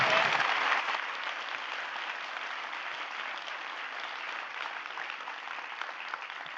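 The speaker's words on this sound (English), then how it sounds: "Please give our guests a round of applause." An audience gives a round of applause for the guests at a panel discussion, loudest at the start and then settling into steady, even clapping from the whole room, with no talking over it.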